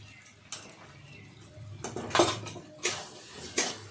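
A spoon stirs spice masala with ginger-garlic paste in a pan for mutton curry, a few scattered metallic clanks and scrapes against the pan, close and moderately loud, with no voice.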